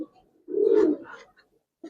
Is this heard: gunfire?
no